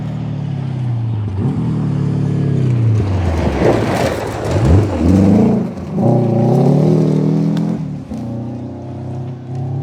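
A rally car roars past close by on a rally stage, engine revving and rising in pitch as it approaches, then falling away as it moves off.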